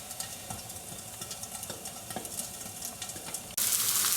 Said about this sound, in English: I'm going to put it on for about 1 minute to really crisp up the outside